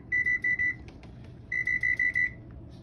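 Kitchen timer beeping while being set during stovetop jasmine rice cooking, two groups of quick sharp electronic beeps, three then five, over a low steady background hum.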